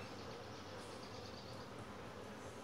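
Honeybees buzz on a hive frame during an inspection, a dense, steady hum of many bees close by, faint overall and without voices.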